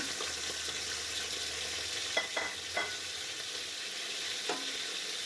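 Onion and garlic frying in hot oil in a home kitchen, a steady soft sizzle throughout with a few brief clinks and scrapes of a stirring utensil, no voices.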